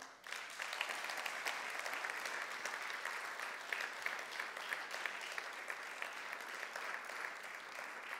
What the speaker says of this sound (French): Est-ce que la famille, vous voulez bien l'applaudir?